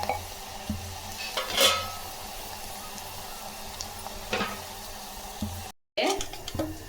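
Moringa greens are stirred in a hot pan with sizzling and scraping, a few distinct utensil clanks against the pan, and a brief break near the end.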